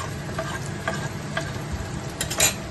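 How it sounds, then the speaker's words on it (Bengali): Chopped garlic and green chillies fry in a pan as a base for mutton, giving a steady, close sizzle with occasional scrapes from stirring and a slightly louder stir near the end. "ওই রসুন কুচানো আর কাঁচা লঙ্কা কুচানোটা দিয়ে দিলাম।"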